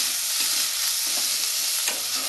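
Onion fries in hot oil with cumin seeds for Bengali-style jeera chicken, making a dense, even sizzling hiss that fills the moment, with faint crackles and no speech.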